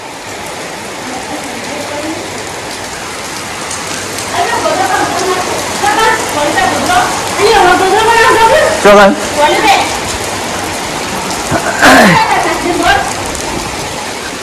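Midnight rain pours down in a steady, loud hiss that patters and swells through the clip, while voices talk over it.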